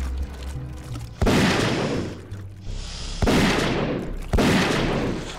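Gunfire aimed at a monster in a dark sewer level of the video game Zeno Clash: three loud, booming shot bursts, each decaying slowly with reverberation, spaced about a second or two apart.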